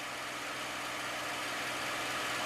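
A P-51 Mustang's piston engine drones steadily in flight as the throttle is eased back, a dense, continuous roar filling the cockpit without pause.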